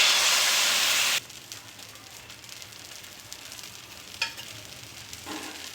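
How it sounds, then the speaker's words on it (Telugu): Jowar dosa batter sizzling on a hot griddle, starting with a loud hissing burst that drops to a quieter steady crackle with a few faint spikes, no talk over it. "పెనం హీట్ అయిన తర్వాత మనకి ఎన్ని దోశలు కావాలంటే అన్ని దోశలు వేసుకోవచ్చండి"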